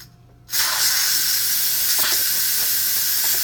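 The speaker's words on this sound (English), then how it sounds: "So quick release the pressure." Steam hisses loudly and steadily from an Instant Pot during a quick pressure release, bursting on suddenly after a brief quiet moment and continuing without a break.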